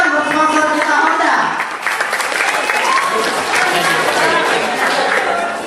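Audience applause at a high school stand-up comedy show, thanking the sponsor Honda: steady, dense clapping from a full crowd that fills the whole stretch, with a brief dip early on and voices mixed in.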